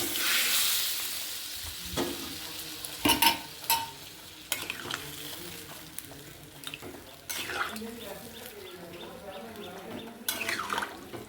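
Potatoes for Kashmiri aloo dum sizzle in a hot pan while a spoon scrapes and stirs, giving repeated sharp knocks against the pan over the frying hiss.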